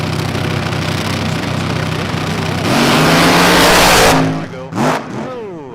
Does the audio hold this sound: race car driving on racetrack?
yes